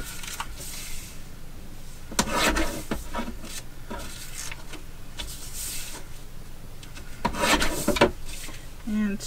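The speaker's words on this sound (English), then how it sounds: "we have the wallpaper, which we need to trim the edges" Wallpaper edges being trimmed by hand, with repeated dry rasping, scraping strokes in short bursts, close and fairly quiet.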